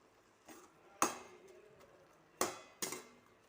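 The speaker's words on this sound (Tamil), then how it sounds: "இப்போ இதை நல்லா கிளறிக்கலாம்" Bread halwa being stirred in a pan, with a quiet scraping background broken by four sharp metallic clinks of the spoon against the pan, spaced irregularly and with no talk.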